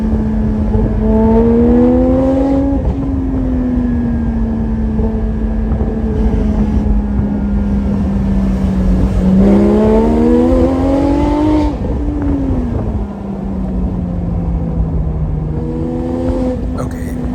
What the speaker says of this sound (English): it's such a pleasant exhaust note